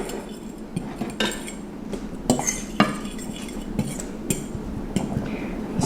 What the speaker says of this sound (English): let's mix the dry together